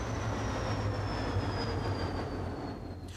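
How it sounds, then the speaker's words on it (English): A train rumbles along the platforms at Dublin Connolly station, a steady low rolling roar with a thin high whine running over it, constant and fairly loud with no voices. "Trains from Belfast terminate in the side platforms at Dublin-Connolly"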